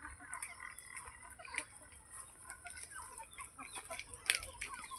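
Chickens cluck softly at a night campsite with a tent pitched beside a carrot garden, faint scattered clucks and chatter over a quiet outdoor background, with one sharper call near the end.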